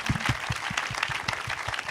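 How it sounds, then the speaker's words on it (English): After a panel discussion at an energy technology forum, a small audience gives a brief round of applause, sparse individual claps in a quick irregular rhythm, fairly faint. "One more round of applause."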